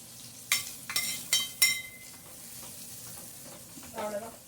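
Tempering is stirred into Karnataka-style bisibela bath in a pan, giving several bright sizzling bursts in the first two seconds, then a quieter simmer and a final scrape and sizzle.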